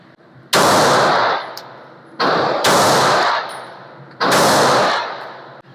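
Pistol fire with a concealed carry handgun fitted with XS DXT2 Pro sights, heard as several loud, close, booming shots in quick bursts, each ringing out and decaying before the next, with no talking.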